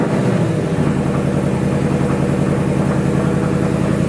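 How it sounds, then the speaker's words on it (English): A stock Ford Mustang S650 with active exhaust in normal mode idles steadily, giving a loud, even, continuous low rumble that stays constant from start to finish with no revs. "This is going to start in normal mode. This is completely stock active exhaust."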